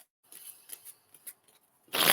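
Tarot cards are shuffled by hand in quick papery riffles and soft slaps, several bursts close to the listener in a quiet room, ending in a louder rustling flurry.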